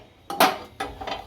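A metal pan is set down on a stove, two close clanking knocks of cookware about half a second apart.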